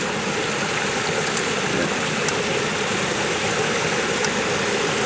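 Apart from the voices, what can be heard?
small stream flowing on a farm in St Thomas, Jamaica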